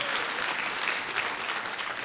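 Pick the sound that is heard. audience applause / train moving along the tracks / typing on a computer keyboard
audience applause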